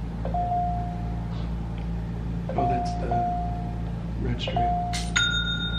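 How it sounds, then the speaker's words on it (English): A phone gives short, bright notification dings several times in a few seconds as incoming orders arrive, heard under someone talking and a steady background hum. "so you can hear my phone going absolutely crazy right now."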